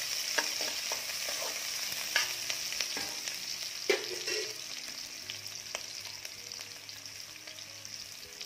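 Chopped onion and ginger sizzle steadily in a pan for an egg curry, with occasional sharper clicks and scrapes of stirring over the continuous frying hiss and no talking.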